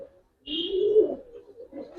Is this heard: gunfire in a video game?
no